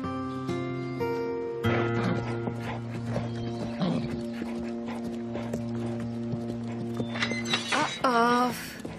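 A horse whinnies and its hooves clip-clop in a steady rhythm, with a distinct neigh rising near the end, loud and close, while voices talk intermittently underneath.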